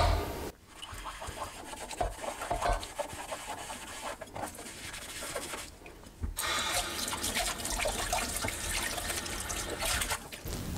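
Tap water runs steadily into a sink while a plate greasy from fried eggs and oil is scrubbed with a mustard and baking soda mix, giving a continuous close splashing rush with rubbing scrapes and a brief lull near the middle.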